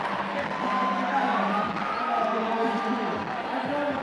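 A loud crowd roars and cheers at the Yank-N-Yard 2019 finals, a dense steady wash of noise with a voice talking over it throughout.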